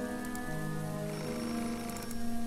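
Telephone ringing in Beholder, a faint electronic ring sitting under steady rain-like hiss and low sustained game music, with no voices.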